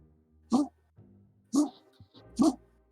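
A cat sneezing three times in quick succession, sharp close bursts about a second apart, with a low murmur of people in the background.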